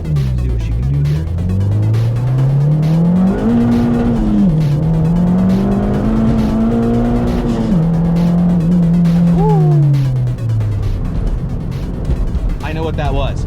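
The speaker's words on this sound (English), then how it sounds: "That means this thing saw like 20 pounds of boost, and we just skirted." A boosted car's engine revs hard in strong pulls with rising pitch through several gear changes, loud and close, then drops off abruptly near the end as boost cut hits, with a voice talking.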